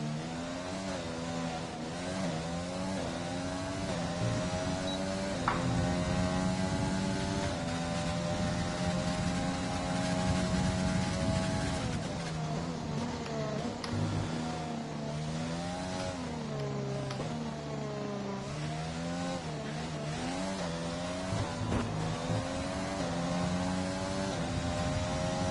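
An F1 racing car on a hot lap at Silverstone in a video game revs continuously, climbing through the gears in repeated rising sweeps and dropping for corners, loud and close with no voices.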